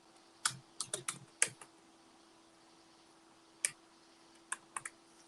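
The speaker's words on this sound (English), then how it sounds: "I'm going to type pastries" Keys tapped on a computer keyboard nearby: a quick burst of clicks, a pause, a single click, then a short final flurry, faint and isolated in a quiet room.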